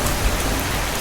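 Heavy rain pours down steadily on the way to a farm field, a dense, even wash of falling water with no pauses, close and full.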